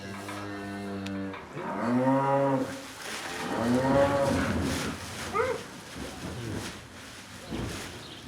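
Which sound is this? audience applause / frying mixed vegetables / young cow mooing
young cow mooing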